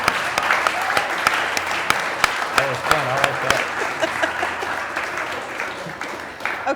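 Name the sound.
audience applause for Nick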